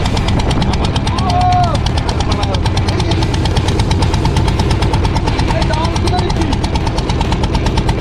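A boat engine runs steadily through a morning boat ride at a beach homestead, a loud continuous drone with knocking vibration, while voices talk over it.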